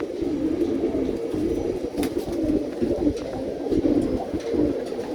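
Pigeon cooing from a ten-year-old pure-bred male bird on a winter morning, a steady low murmur of repeated coos close by with no speech over it.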